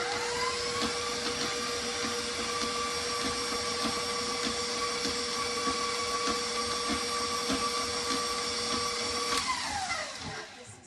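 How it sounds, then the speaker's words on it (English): A steady, loud electric mixer whirs continuously as it creams butter and sugar for banana bread, its motor whine holding even before winding down and stopping near the end. "So you just cream this butter and sugar. I have my mixer over here."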